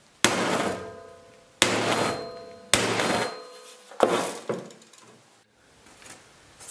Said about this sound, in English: And then I'm gonna hit that bolt with the sledgehammer and just let it get dented.